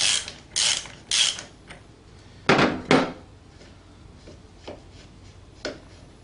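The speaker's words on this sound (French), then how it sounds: "pour le démontage, on dévisse. On dévisse dans le sens horaire." A pedal is unscrewed from a Brompton folding bike, the spanner ratcheting and creaking in loud, irregular bursts, several strong clicks early on followed by fainter ones, with no talk.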